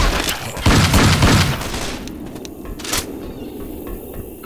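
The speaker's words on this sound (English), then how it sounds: "Spin him around and shoot him in the back." Gunfire in Left 4 Dead 2, a loud burst of rapid shots and impacts early on, then scattered quieter cracks and a sharp report fading into game ambience.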